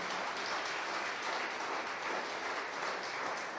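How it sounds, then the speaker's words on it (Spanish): A church congregation applauds steadily at a Spanish-language worship service, a dense, even wash of many hands clapping throughout with no voices on top. "denle un aplauso al Señor"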